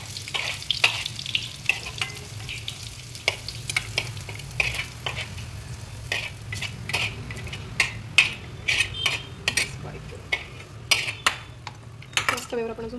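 Onion being sautéed in a pan for mutton curry, a low sizzle under frequent sharp metal spatula scrapes and clanks against the pan, irregular and close, with the stirring getting busier toward the end.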